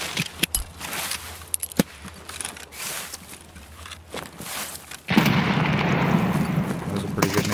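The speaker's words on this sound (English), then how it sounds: "That was a pretty good nade." A grenade blast in the video game Escape from Tarkov: scattered sharp gunshot-like cracks, then a sudden loud explosion whose rumbling roar and debris noise fill the rest of the moment, close by, with brief voices in between.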